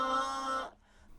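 A Cowgirl enemy in the retro shooter DUSK lets out a short, harsh, buzzing tonal cry lasting under a second, heard alone and fairly quiet before it cuts off.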